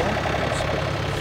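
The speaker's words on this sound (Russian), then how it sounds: "Трактор Yanmar FX-225." Yanmar FX-225 tractor engine running steadily at close range, a constant loud drone with no breaks, heard alone without talk.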